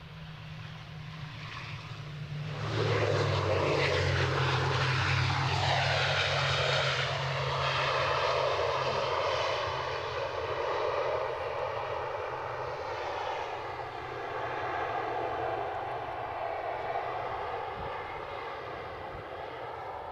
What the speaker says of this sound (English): we've got a British Airways City Flyer coming in.